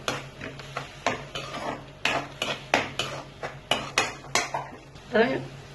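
A utensil scrapes and clanks against a pan in a steady stirring rhythm, about a dozen metallic strokes over a faint background hum, while sautéing with salt for Gobi Manchurian gravy.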